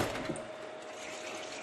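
Steady splashing of water poured into a plastic bottle of pickled cucumbers, a continuous close liquid rush at low volume.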